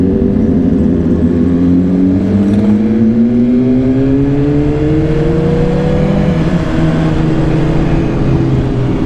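A loud BMW S1000RR sport motorcycle engine drones steadily, its pitch rising and dropping as it shifts through gears with a quick shifter, close and continuous throughout.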